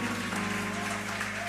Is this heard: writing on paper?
no